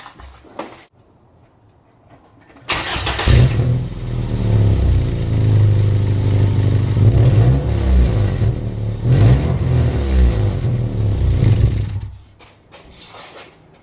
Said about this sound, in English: I'm going to start the car so you guys can get a feel for what it sounds like